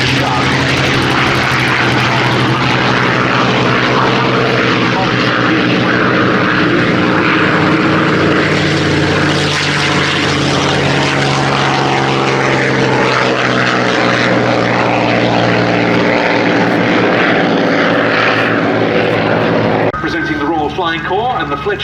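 A scale replica of a Royal Aircraft Factory SE-5A biplane flies past at the Duxford air show, its propeller engine giving a loud, steady drone that holds for about twenty seconds with a commentator speaking over it.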